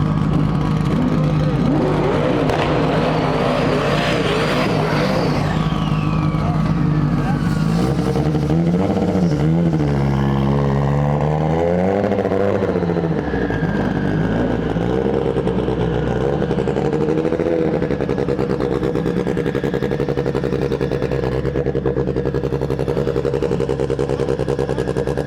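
A 1300HP all-wheel-drive turbocharged K20 Honda Civic drag car at a stick shift class drag race, roaring loudly with rising and falling revs and shifts, engine noise constant throughout, with announcer speech mixed in.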